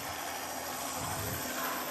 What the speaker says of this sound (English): Now we got to wait for the helicopter to take off